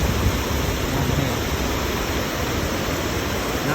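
Water gushes steadily from a spring-fed fountain at Tao Ngoi, a dense, continuous rushing wash with no breaks, fairly loud and close throughout.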